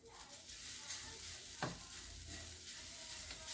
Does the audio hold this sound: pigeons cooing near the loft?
no